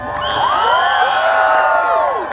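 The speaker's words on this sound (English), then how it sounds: "Please cheer for her. Louder, please. She deserves this. She deserves this applause." A crowd at a beauty pageant cheers and whoops loudly for a contestant on stage, a dense sustained roar of voices with shrill shouts.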